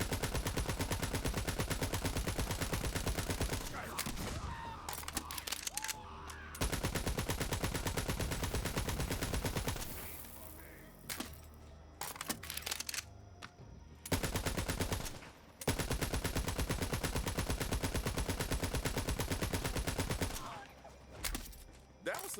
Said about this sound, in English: That was some damn fine shooting.